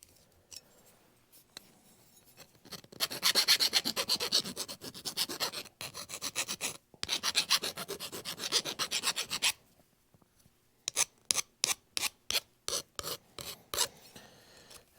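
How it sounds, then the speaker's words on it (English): A metal file's pointed end rasps back and forth inside a coolant pipe on a 1943 Case SC tractor, reaming and deburring it in bursts of quick scraping strokes, then a run of separate sharp strokes, close and loud with no talking. "I'm just going to take the point end of the file, stick it in there, ream the inside of the pipe"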